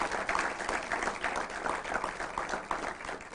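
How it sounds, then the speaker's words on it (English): An audience claps for a speaker, a brief, steady burst of moderately dense applause with no voices heard over it. "Round of applause for him."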